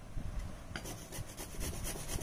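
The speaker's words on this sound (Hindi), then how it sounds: "जैसे इसको देखिए इस तरह से कद्दूकस कर लेंगे" Beetroot is grated on a kitchen grater, a soft rhythmic rasping of repeated strokes, close but fairly quiet.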